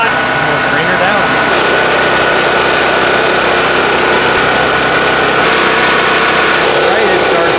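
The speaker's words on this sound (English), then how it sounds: "let her idle for about 5 minutes" A generator engine idles steadily while warming up, a continuous mechanical drone with a whining tone running under it throughout, loud and close, with no pauses.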